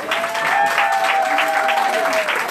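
Audience clapping at a hairdressing school's fashion show and diploma ceremony, continuous and fairly loud, with music or a sustained tone running underneath and a crowd murmur mixed in.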